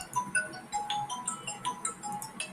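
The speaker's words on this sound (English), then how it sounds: "I need to pick up a phone." A phone ringtone plays as a repeating melody of short, bright electronic tones at moderate volume, with no voices over it.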